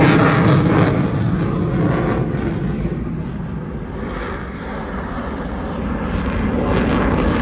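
A fighter jet at an air show roars past overhead, a loud, broad engine rush that swells, eases slightly in the middle and builds again, with no voices.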